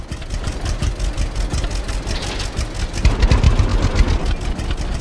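Tractor engine idling in the Farmer's Dynasty farming simulation game, a steady loud low rumble with rapid pulsing throughout, close and continuous without talk.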